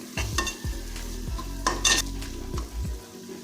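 Ground biryani masala frying in hot oil in a pressure cooker, with steady sizzling broken by repeated scraping stirs of a utensil against the pot.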